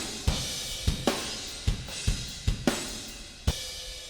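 A series of sharp percussive hits at an uneven pace, each trailing off into a long, washy reverberant tail.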